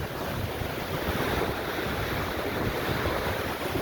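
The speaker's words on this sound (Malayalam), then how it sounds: "വെള്ളം ചാട്ടമൊക്കെ ഉണ്ടല്ലേ" A river waterfall pours with a steady, broad rushing hiss of falling water, constant and even throughout with no voices.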